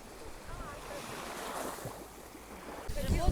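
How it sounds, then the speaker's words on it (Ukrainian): Strong wind buffets the microphone over the wash of surf on a sandy beach on a narrow isthmus, rumbling and gusting louder toward the end, with faint voices underneath. "тут страшенний вітер"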